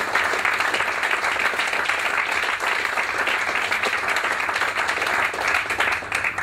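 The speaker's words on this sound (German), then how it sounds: "Vielleicht nochmal einen Applaus." Sustained audience applause thanking a panel at an open science discussion event, a dense, steady wash of many hands clapping for several seconds without any talk over it.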